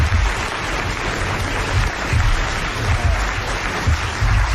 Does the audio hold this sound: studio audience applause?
yes